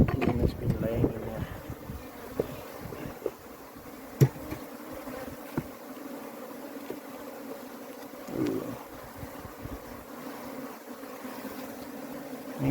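Honeybees buzz steadily around an open hive during a spring apiary inspection in South Africa's Overberg, a low continuous drone near the microphone, with occasional handling knocks and faint wind.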